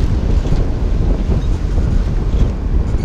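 Heavy sea swell and headwind buffet a sailboat motoring into roughly two-metre waves, a loud, dense roar of wind noise and churning water with no speech.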